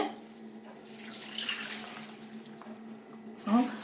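Prepared water for a zucchini and cucumber salad is poured from a tap or jug, a steady faint trickle and splash lasting several seconds with a brief louder gush near the end.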